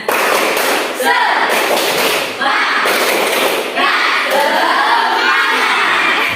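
A class of standing schoolchildren doing a rhythmic clapping cheer, loud shouted chanting with bursts of claps and thumps in repeated phrases, close and energetic.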